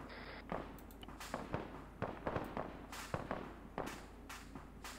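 Scattered gunshots from an Arma 3 military mission, a defensive battle: sharp, irregular cracks at varying distance over about five seconds, some close and some faint, with no talk.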